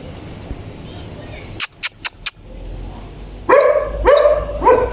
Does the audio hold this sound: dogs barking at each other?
yes